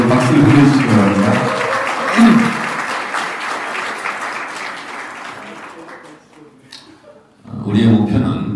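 Regional committee chairs at a party gathering break into loud applause mixed with cheering and shouts, dense at first, thinning to a quieter lull, then surging again near the end, with voices audible throughout.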